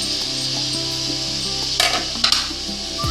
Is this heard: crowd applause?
no